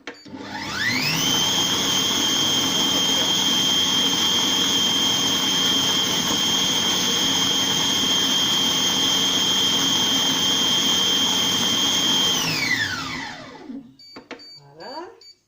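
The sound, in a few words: Compact Cook Pro food processor blending mushroom velouté at speed 8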